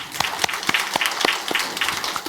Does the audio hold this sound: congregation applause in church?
yes